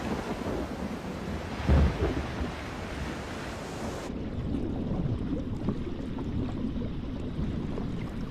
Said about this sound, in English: Storm clouds bring rain,